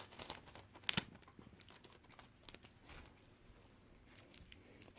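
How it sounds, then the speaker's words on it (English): Tape being wrapped around an arrow as an extra layer: soft, close crinkling and rustling, with one sharp tearing pull near the start, then quieter intermittent crackles. "I'll put another layer of tape around the whole thing."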